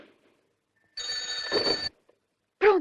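A telephone rings with a bright, trilling bell: one sustained ring of about a second, then a short pause and the start of a second ring.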